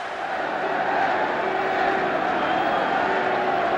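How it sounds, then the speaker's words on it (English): The crowd at a 1972 New Zealand versus Wales rugby test match keeps up a dense, steady roar, loud and unbroken, with no clear single voice on top. "just listen to the roar from this crowd as the red jersey appears"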